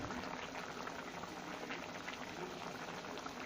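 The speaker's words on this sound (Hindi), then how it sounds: "अब हम इसको 10 मिनट के लिए तकरीबन कुक करेंगे, ताकि टमाटर अच्छी तरीके से गल जाएं" Achaar gosht beef curry with whole tomatoes and yogurt simmers in a pot, giving a steady, dense bubbling and sizzling hiss that stays constant and close throughout.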